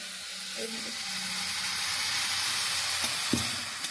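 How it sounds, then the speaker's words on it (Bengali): Winter vegetables for daliya khichuri hissing in a pan after a splash of water, a broad steady sizzle with a few faint utensil knocks, moderately loud and continuous. "অল্প একটু জলের আমি ছিটা দিচ্ছি।"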